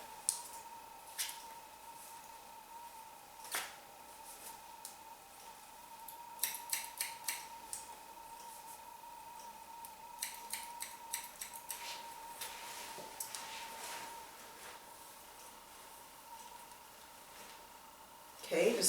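Repeated crisp snips of scissors cutting hair, close by, coming in short bursts of rapid clicks with pauses between, under a steady background hum and talk.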